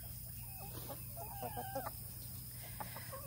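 Backyard hens clucking in short, irregular bursts at moderate distance, with a steady low hum running underneath the whole time.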